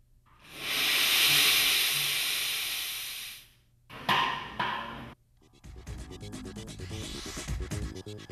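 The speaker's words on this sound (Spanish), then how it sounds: "se hace pasar vapor de agua generado en la caldera por la parte inferior del alambique" Steam from a boiler hissing through a distillation still, a loud sustained hiss for a few seconds, then a shorter burst, followed by clanking, rattling mechanical noise, nearby with no talking.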